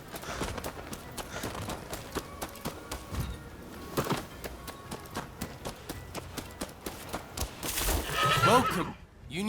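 Horses in the video game Rise of the Ronin whinny and neigh amid rhythmic hoof clops, with game voices talking and a louder burst of activity near the end.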